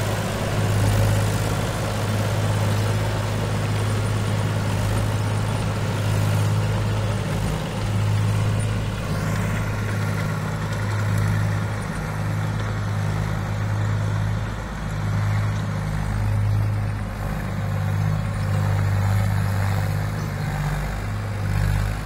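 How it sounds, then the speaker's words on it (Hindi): A tractor fitted with a rotavator idles steadily with a deep, rumbling low-pitched chug that holds at a constant level throughout, with no talking. "और देखो ट्रैक्टर की क्या शानदार आवाज़ है"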